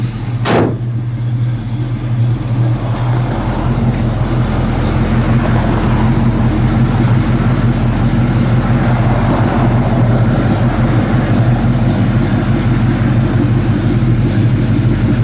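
A professionally built early-1970s Pontiac 400 V8 in a 1979 Trans Am runs at a steady idle, a loud, continuous low rumble close by from start to finish, with no talk over it.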